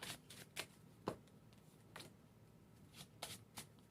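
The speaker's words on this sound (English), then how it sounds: "So they shuffle the cards up." Playing cards are shuffled in several quick riffling bursts, close and fairly quiet, with short pauses between them.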